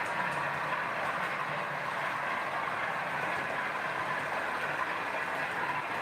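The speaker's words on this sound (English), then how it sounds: "So the sound you can hear is from my Class 50," A model Class 50 locomotive's sound unit produces a steady diesel engine rumble and hum, continuous and fairly faint throughout, with no talk over it.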